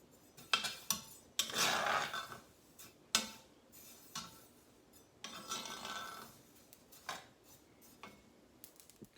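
Seeds stirred around in a warm pan with a utensil, giving soft scraping and metallic clinks in uneven bursts, some louder rasps among faint ticks, quiet and close with no talking.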